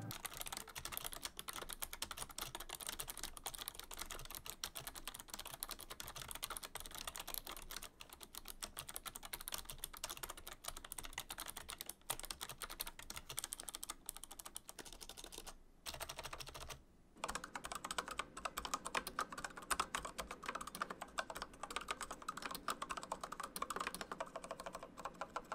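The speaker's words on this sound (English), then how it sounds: "here are the Razer Mecha Membrane keys and the Cherry Viola switches" Continuous typing on a Razer Ornata V2 keyboard with Mecha-Membrane keys alongside a Corsair K60 RGB PRO SE with Cherry Viola switches, a dense, steady stream of close keystrokes with a brief pause near the end and no talking.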